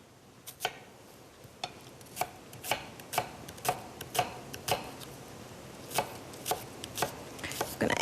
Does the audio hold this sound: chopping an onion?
yes